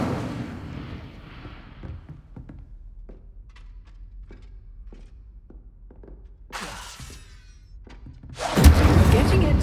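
The Incendio fire spell in Hogwarts Legacy on PS5 sounds as a string of soft thunks, then a crackling burst and a loud, roaring whoosh of flame at the end.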